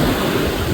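Sea waves break and wash onto a Konkan beach in a steady, loud roar of surf, with wind buffeting the microphone and no voices present.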